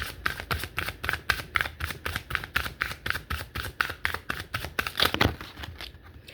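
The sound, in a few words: oracle cards being shuffled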